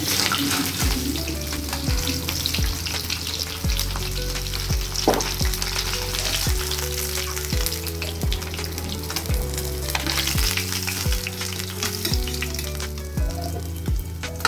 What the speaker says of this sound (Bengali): মাছগুলো আমি খুব কড়া করে ভাজলাম না এরকম ভাবে ভেজে নিলাম